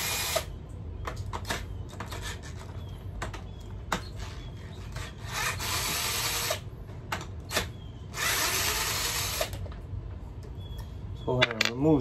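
A power tool removes the bolts on a leaking car thermostat housing, with several whirring bursts of a few seconds each between clicks and handling clatter, close and fairly loud.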